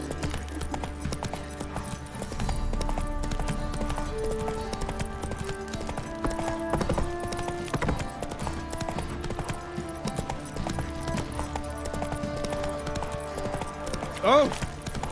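Roach the horse galloping in The Witcher 3, hoofbeats clip-clopping steadily beneath game music and a speaking voice, with a brief sharp accent near the end.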